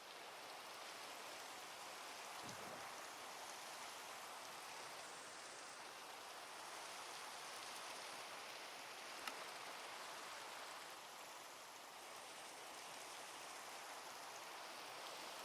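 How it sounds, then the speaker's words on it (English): Steady, even rain hiss from the Minecraft video game fills the whole stretch at moderate, unchanging loudness, with no voices and only a faint tick or two. "Is this just vanilla rain?"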